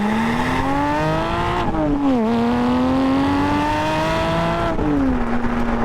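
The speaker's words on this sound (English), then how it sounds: "at the top end, you've got more of a flat six howl, which is exactly like the old 993" Porsche Spyder flat-six engine howling through a new race exhaust, a loud sustained rising note that dips briefly on a shift around two seconds and again near five, close and continuous with no talk.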